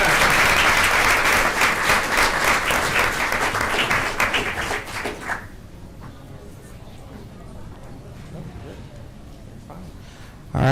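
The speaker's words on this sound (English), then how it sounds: "we'll clap for them again" Audience applause at a Twinsburg Board of Education meeting, with loud sustained clapping for about five seconds that then stops abruptly, followed by quieter room noise and a voice speaking.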